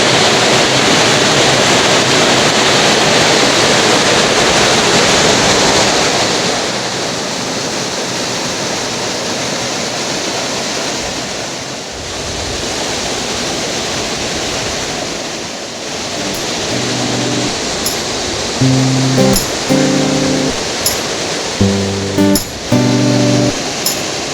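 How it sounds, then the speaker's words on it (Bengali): Shunuri waterfall at Santuri, Purulia: a loud, steady roar of falling water heard up close throughout, with a few brief tonal beeps near the end. "ঝর্ণার কাছে বসে আছি।"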